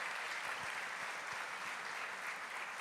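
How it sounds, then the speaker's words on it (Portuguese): A church congregation applauding, a soft, even patter of many hands heard from a distance, quiet and continuous with no talk. "Eu queria que você recebesse com muito carinho, aplaudindo ao Senhor"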